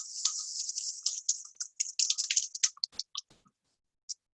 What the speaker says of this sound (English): You see how this whisk really gets right to the bottom of the bowl.